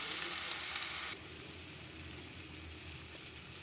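Spiced masala fries quietly in a pan as paneer is added; a soft, even sizzle drops slightly in level after the first second and then continues steadily.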